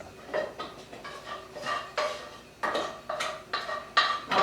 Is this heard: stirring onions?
yes